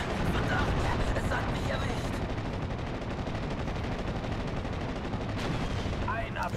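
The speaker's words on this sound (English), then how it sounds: "My Pack 38, however, going to be going for the shots onto the command carrier" Pak 38 anti-tank gun fire in Steel Division: Normandy 44, dense and continuous battle noise with gunfire and explosions layered thickly throughout, loud and sustained with occasional sharper reports.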